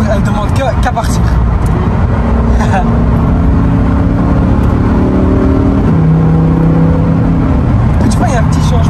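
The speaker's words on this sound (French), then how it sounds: "dès que je dépasse 4000 tours, eh ben, les valves ils s'ouvrent et t'entends le bruit" A Lamborghini Huracán STO engine revs hard past 4000 rpm with its exhaust valves opening, a loud sustained roar that climbs and steps in pitch. Voices talk over it throughout.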